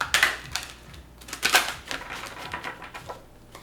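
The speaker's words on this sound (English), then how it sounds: "These glossier cards are always harder to shuffle for me." Quick crisp clicking and flicking bursts in several irregular clusters as stiff, glossy tarot cards are shuffled close by.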